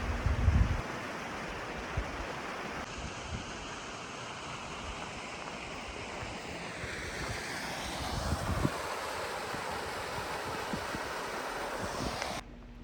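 Flowing water from Dinkey Creek rushes in a continuous broadband wash along a wilderness hiking trail, with gusts of wind buffeting the microphone and no voices.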